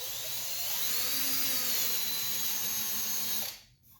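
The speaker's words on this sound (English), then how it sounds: "I have to also make sure that I countersink these so the screws will actually go in" A power drill countersinks screw holes in an Esquire Partscaster guitar body, a steady high whine running close and loud for about three and a half seconds before cutting off abruptly.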